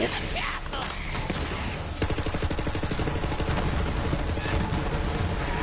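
Rapid bursts of SMG fire in a video game, dense and loud, continuing almost without pause over a busy mix of game effects.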